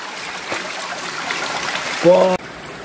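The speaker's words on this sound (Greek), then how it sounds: "Το νερό αυτό κατεβαίνει από το βουνό, είναι ούλτρα κρύο." Cold mountain stream water flowing on Mount Olympus, a steady soft trickling wash throughout, with a brief louder burst near the end.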